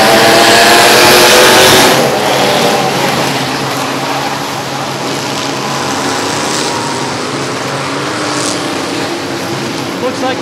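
Race cars dragging boats and trailers around Rockford Speedway in a trailer race of destruction: a loud continuous roar of several engines revving, with a commentator talking over it.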